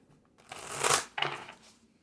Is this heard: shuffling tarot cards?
yes